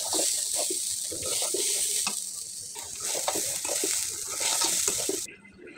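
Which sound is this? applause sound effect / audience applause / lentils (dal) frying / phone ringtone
lentils (dal) frying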